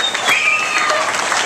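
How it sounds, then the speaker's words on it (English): Wedding guests clap in a short, steady burst of applause at an inn reception, close and fairly loud with a murmur of voices underneath. "Let's give them both a nice round of applause as well."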